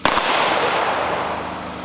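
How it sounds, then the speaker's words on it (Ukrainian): A ceremonial salute fired in honour of fallen soldiers at a Heroes' Day memorial booms out as one loud, sharp report, followed by a long crackling, rumbling decay that lingers for nearly two seconds. "На честь полеглих пролунав салют"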